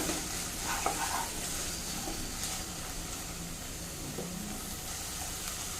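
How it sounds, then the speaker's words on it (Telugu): Mixed vegetables sautéing in a pan for a paneer rice dish, a continuous even sizzle with occasional soft stirring scrapes, close up and fairly quiet. "ఫస్ట్ ఇవన్నీ వెజిటేబుల్స్ అన్నీ యాడ్ చేద్దాము. ఫస్ట్ ఇవి కుక్ అవ్వాలి. మిక్స్ చేద్దామండి ఇది."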